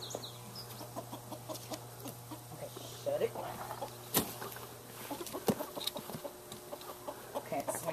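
Chickens cluck and squawk in a coop as one is grabbed by the legs and caught, with short bursts of fowl calls and scuffling over a steady low hum, while people talk nearby.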